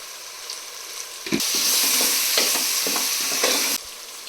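Vegetables for biryani fry in a hot pan with a sudden loud sizzle as they go in, followed by steady crackling and repeated scraping stirs for a couple of seconds before it cuts off.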